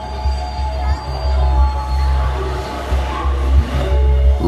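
A JR West rapid train runs along the rails toward Amagasaki, its low rolling rumble pulsing with wheel beats and faint high squeal tones rising and falling, loud and continuous with no voices.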